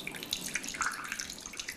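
Water pours from a milk carton in a steady, close trickling and splashing stream that runs throughout, fairly quiet.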